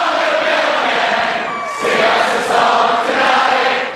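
A large concert crowd singing along at a Billy Joel show, a loud dense wash of many voices sustained throughout with a brief dip before swelling again.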